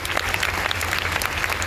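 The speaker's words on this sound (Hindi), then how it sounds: "A big round of applause. जोरदार तालियां इनके लिए।" A crowd at a DXN business meeting claps in dense, sustained applause that fills the room evenly from start to finish, loud and close, with no break.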